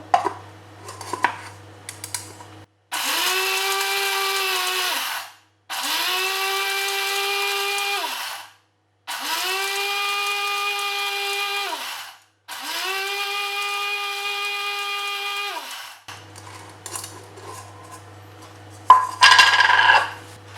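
A cheap mini mixie grinder whirs through four steady bursts of a few seconds each, with short pauses between them; the motor hum is loud and close and no one talks over it.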